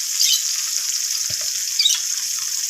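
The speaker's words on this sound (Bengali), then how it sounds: "প্রথমে আমি কেটে রাখা আলুগুলোকে ভেজে নেব।" Cut potatoes frying in oil make a steady, bright sizzling hiss, with a couple of brief crackling bursts near the start and end of the short span.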